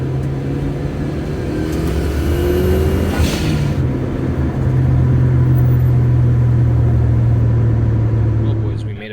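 A car engine drones steadily from inside the cabin while driving, a low rumbling hum that rises slightly as it accelerates partway through and holds loud to the end.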